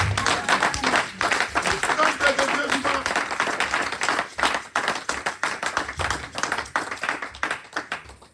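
A church congregation claps and cheers loudly and steadily throughout, dense rhythmic applause filling the room with voices shouting along.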